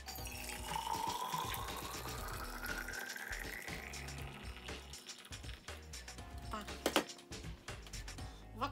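Water poured into a Tramp TRC-107 thermos, a rising gurgling fill that climbs in pitch as the flask fills, with some handling clatter and faint voice nearby.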